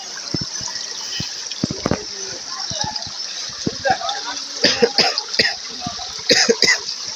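Khoiyachhora waterfall in Mirsarai, Chattogram, gives a constant rushing roar with scattered splashes, while nearby people talk and cough over the water.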